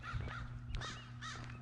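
Two or three loud, raspy caws come from a crow high in a treetop outdoors in Outlook, Saskatchewan, over a steady low hum.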